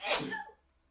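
A single sharp human sneeze during a relaxed livestream, a loud breathy burst that drops off quickly into quiet.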